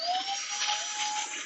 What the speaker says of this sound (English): for an indoor challenge with a vacuum cleaner.